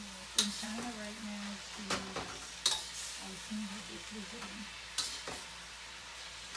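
Rice is stir-fried with Lao Gan Ma chili sauce, spatula scraping and clanking against the pan in repeated strokes over a soft sizzle, with faint voices in the background.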